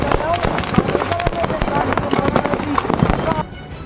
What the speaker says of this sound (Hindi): पटाखों का शोर कई किलोमीटर दूर तक सुनाई पड़ा।